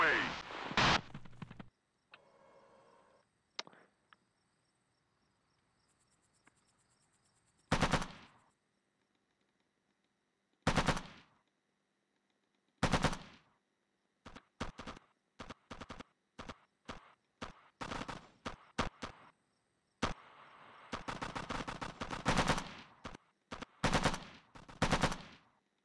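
Machine gun fire in the video game Operation Flashpoint Resistance, sharp bursts and single loud shots scattered between quiet gaps, some rapid strings of shots, with people talking in between.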